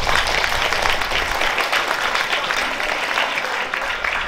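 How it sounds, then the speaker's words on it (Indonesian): Steady applause from a school audience of students at a religious talk in a vocational high school hall, dense and even throughout without a break. "Tepuk tangan."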